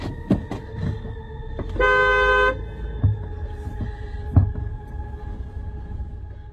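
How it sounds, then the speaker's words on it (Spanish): A single short car horn toot sounds at night in a rural field in Mexico, a steady tonal blast lasting under a second, clear over a low background hum with a few faint knocks. "La asustada y sorprendida testigo se da cuenta y toca el claxon"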